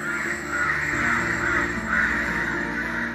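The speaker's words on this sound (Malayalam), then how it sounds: "ഈ കാക്ക ഒരുപാടെണ്ണം കിടന്ന് ബഹളം വെച്ച് ശല്യം ചെയ്യണമുണ്ട്" Many crows caw noisily outdoors near a spot where pigeons are being trained, producing harsh, repeated calls in overlapping waves that stay fairly loud and steady throughout, with no one talking.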